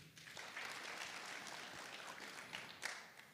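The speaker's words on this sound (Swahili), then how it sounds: "situpigie CEO makofi" A hall full of delegates at a Magereza SACCO education meeting gives the CEO a round of applause, a faint, steady wash of clapping that lasts throughout.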